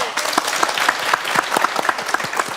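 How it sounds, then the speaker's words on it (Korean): A studio audience on a Korean variety show applauds, a short burst of brisk clapping with individual sharp claps standing out. "박수 보내드릴게요"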